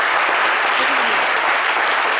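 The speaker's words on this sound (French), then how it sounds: "J'ai envie qu'on l'applaudisse quand même pour ça." Studio audience applauding French filmmaker Philippe Lacôte on a lunchtime TV talk show, a dense, steady wash of clapping that stays loud and close throughout with no break.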